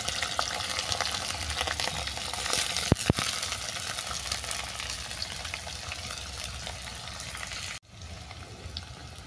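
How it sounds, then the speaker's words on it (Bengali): Chopped beans and carrots fry in hot oil for mango pilaf, giving a steady close sizzle with a couple of sharp stirring knocks before it cuts off near the end. "বিনস আর গাজরটা ভালো করে ভেজে নিচ্ছি।"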